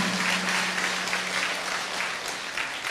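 An audience at a Buddhist monk's dharma talk claps in sustained applause, a dense, even patter of many hands that holds steady throughout.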